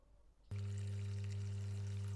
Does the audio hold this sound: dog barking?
no